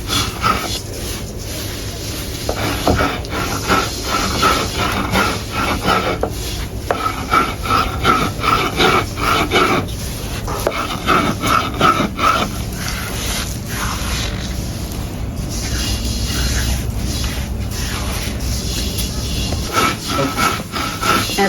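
Rice is ground into powder by hand, a rough, repetitive rubbing and grating scrape that goes on in uneven strokes with short pauses over a sustained stretch.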